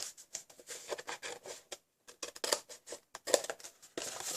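Scissors snipping a small tab from a paper Christmas ornament, giving a quiet, close series of short irregular crisp cuts and rustles with brief gaps.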